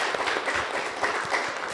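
Applause from a church congregation in a large room during a Sunday service, a dense patter of many hands clapping at once, steady and moderately loud.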